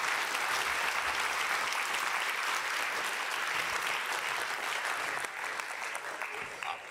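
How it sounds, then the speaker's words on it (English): A conference audience at the Copenhagen Democracy Summit claps steadily after a talk by Boris Johnson, with dense sustained applause that eases slightly toward the end. "Applause."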